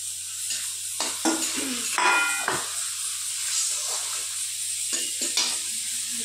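Tomatoes and a ground spice paste with meat masala frying in a pan, giving a loud, steady sizzle broken by repeated scraping stirs of the spatula close up, with no talking.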